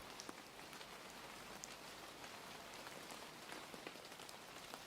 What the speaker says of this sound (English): Outside, the rain continued.